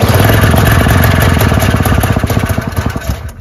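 A single-stage snowblower engine, pull-started without priming, runs loud and close with a rapid chugging putter that holds steady, then turns slightly uneven and fades near the end.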